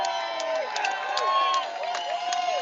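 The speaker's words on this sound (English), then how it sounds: "give it a big cheer" A rally crowd at the March for Australia in Sydney, waving flags and cheering, a sustained roar of many voices with scattered shouts and whoops, fairly loud and close.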